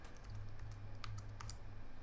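Computer keyboard keys tapped during an After Effects editing session, a quiet run of soft clicks over a low steady hum, with a few sharper taps standing out near the middle.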